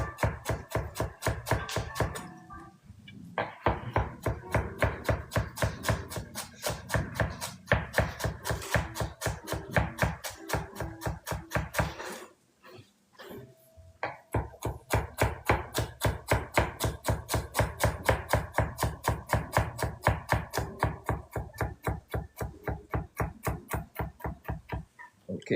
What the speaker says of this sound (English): So the parsley, you wanna cut it nice and fine. So make sure you have a sharp knife